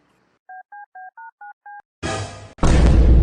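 Six short phone dialing tones beep in a steady sequence, each a different pitch, followed by a loud burst of hiss and static.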